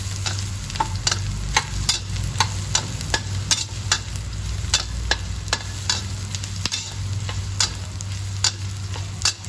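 Garlic sizzles steadily in a hot pan while a spatula scrapes and taps in a regular rhythm, close and clear with no talking.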